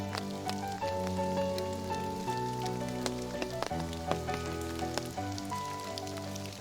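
Rain falls through a forest on Jeju Island, a steady soft patter of drops, partly masked by gentle sustained music playing over it.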